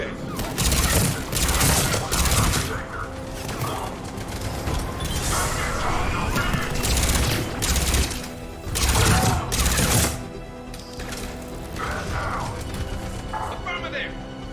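Firefight at a checkpoint in Mass Effect 3, with loud bursts of automatic gunfire and heavy impacts repeating in clusters over a constant rumble of combat.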